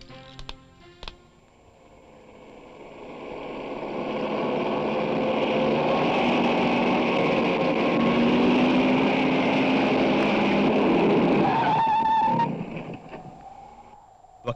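A car engine hums up, drones steadily for several seconds, then winds down as the vehicle brakes to a stop, leaving near quiet at the end.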